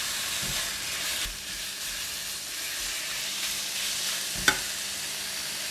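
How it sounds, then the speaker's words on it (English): Chicken and corn soup sizzles and hisses steadily in a pot while it is stirred, with soft scraping knocks from the utensil, one of them sharper near the end. "Give it a stir."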